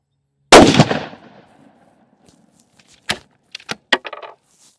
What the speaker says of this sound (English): he shoots into gel at 50 yards